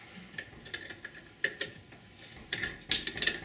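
Ratcheting clicks from a wrench tightening the mounting bolts of a car's brake master cylinder, several short bursts of quick clicks with pauses between them, close and fairly faint.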